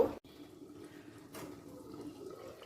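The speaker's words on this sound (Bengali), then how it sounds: "আরও একটু জল দিয়ে দিলাম" Water is poured into a cooking pot while a spicy potato, tomato and mustard-paste curry is made on a gas stove. A faint, steady splashing pour follows a brief knock at the start, close by and with no talk.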